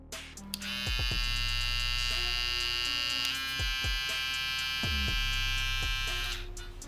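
A Kemei 1807 electric hair clipper runs steadily with a bright, buzzing motor whine, starting up and shutting off after several seconds, with a few low knocks as it is handled.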